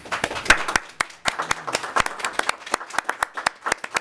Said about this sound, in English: That clap from the staff means a lot